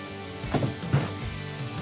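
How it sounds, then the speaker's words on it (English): Soft crackling sizzle of crispy fried chicken just out of the oven, steady and close, with a couple of slightly louder pops. "You hear that nice little sizzle."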